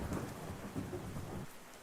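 Rain pours steadily with low rolling thunder outdoors during a storm damage survey among snapped wooden utility poles and H-frames; continuous, fairly loud wash of rain with rumbles underneath.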